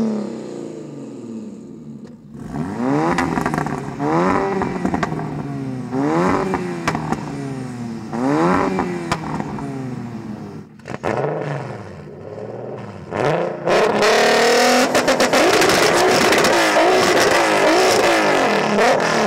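Three 600 hp turbocharged Volkswagens, a Golf R, an MK2 Golf and an R32, rev hard one after another, loud and close, with repeated rising engine pulls, crackles and a sustained full-throttle roar at the end.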